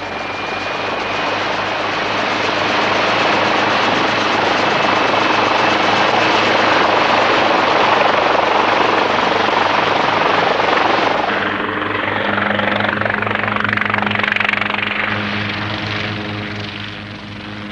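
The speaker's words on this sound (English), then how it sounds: "the helicopter lifts off to make the first reconnaissance." A helicopter lifts off for reconnaissance over Thera, its rotor and engine roaring loud and steady throughout, and the pitch drops as it climbs away near the end.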